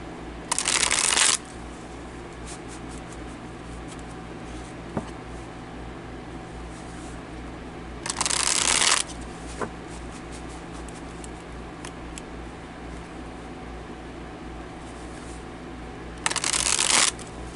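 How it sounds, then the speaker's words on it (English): A deck of cards is riffle-shuffled three times, each burst about a second long and separated by long pauses over a steady low room hum. "Let me shuffle."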